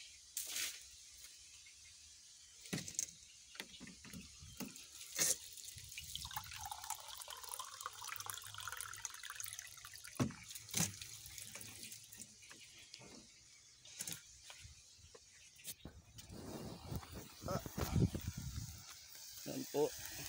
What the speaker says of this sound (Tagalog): Lagyan po natin ng tubig para magkaroon ng sabaw.